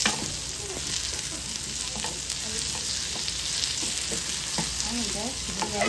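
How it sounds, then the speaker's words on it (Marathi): Tomatoes sauté in a hot pan with a constant close sizzle, while a spatula stirs and scrapes in small repeated strokes throughout. Nobody talks. "टोमॅटो टाकून मिक्स करून घेते"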